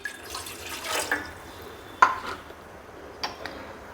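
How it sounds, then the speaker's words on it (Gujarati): One cup of water is poured into a saucepan sitting on a gas stove, giving a short splash with light metallic clinks and drips. A few sharp knocks of the pan follow in a quiet kitchen, with no talking. "એમાં 1 કપ પાણી ઉમેરશું"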